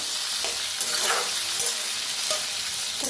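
Food fries in mustard oil in a pan as a potato and yogurt dish cooks, giving a loud, dense, continuous sizzle with a few faint stirring scrapes underneath and no voices.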